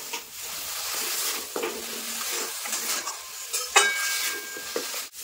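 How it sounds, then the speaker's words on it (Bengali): Spice paste with chopped tomato and salt stir-fried in a pan, continuous close sizzling broken by scraping and clinking spatula strokes against the metal, no voices. "দিয়ে আবার মশলাটা আরো সুন্দরভাবে কষিয়ে নেবো যতক্ষণ না মশলা থেকে তেল ছাড়ছে।"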